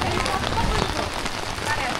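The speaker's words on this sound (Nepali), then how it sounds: "आज चाहिँ पानी यस्तो पानी भारी, यस्तो धेरै भारी त होइन तर कन्टिन्यू छ।" Steady, continuous rain falls in Kathmandu, a moderate but unbroken wash of drops hitting surfaces nearby, with no clear voices over it.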